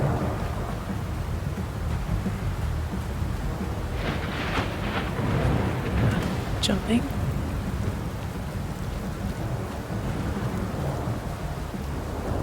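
A thunderstorm with rain in the South of Midnight video game: a continuous low roar of rain with rumbling thunder, a brief brighter crackle midway, and a single spoken word over it.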